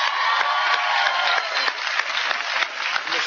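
Studio audience of a TV talk show applauds in a steady, dense burst of clapping that fills the space for a few seconds, loud and close, with no talking over it.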